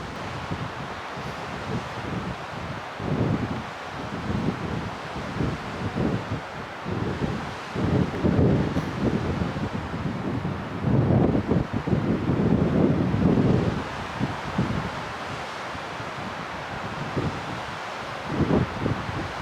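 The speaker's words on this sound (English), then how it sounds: "Trying to be quiet here so you can actually hear the waves and probably the wind." Gusting wind buffets the microphone over a low, rolling wash of surf at Lake Tahoe, swelling and easing in uneven surges with no one talking.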